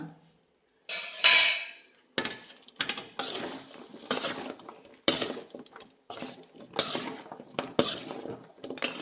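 Beruhalasina (breadfruit) manchuri being stirred in a pan over a medium flame: repeated metal spatula scrapes and clinks against the pan in an uneven rhythm, close and fairly loud, with no voices.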